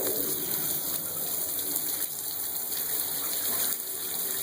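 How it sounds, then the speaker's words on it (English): Tap water runs from a faucet into a bathtub and gushes down a freshly unclogged drain, a steady, close rushing and gurgling without speech. "so we got the drain open, we're running the water."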